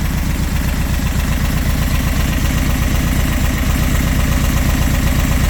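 A VW convertible's engine idling steadily at about 1,000 rpm up close, a loud, even low rumble with regular pulsing throb and no voices.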